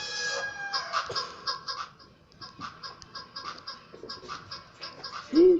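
Game-like rooster clucks repeat in quick bursts over a busy background, with a louder squawk near the end.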